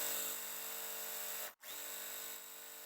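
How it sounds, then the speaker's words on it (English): An electric sewing machine stitches quilt fabric with a steady, even motor whir that cuts out for a split second and then runs on, close and alone with no talking. "I'm going to sew smack down the middle so I don't mess up, because I've already made a crease, and I'm going to sew."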